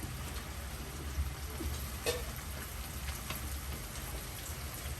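Strips of orange beef sizzle in hot oil during a second frying for extra crispness, a steady dense crackle and hiss with occasional louder pops, close and continuous without speech.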